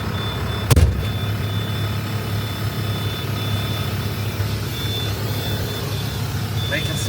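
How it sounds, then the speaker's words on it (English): A sharp hiss of truck air brakes bursts out briefly near the start, then a steady idling engine rumble continues with a faint intermittent beeping. "Air brakes."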